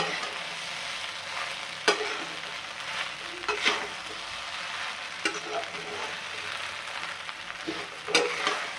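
Sabudana khichdi cooking in a pan gives a continuous close sizzle, broken by several sharp scraping knocks of a spoon stirring it at irregular intervals, with no talk.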